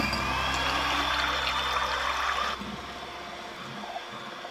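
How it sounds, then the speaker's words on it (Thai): Three duck eggs are beaten until fluffy for Thai crispy sponge cookies. A steady, close whirring churn holds for about two and a half seconds, then drops to a quieter continuous beating. "ตีไข่เป็ดนะคะให้ขึ้นฟู"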